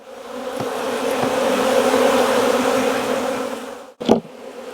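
Honey bees at a hive during a split with queen cells make a steady, dense buzz close by, swelling and holding, then broken by a sharp thump near the end.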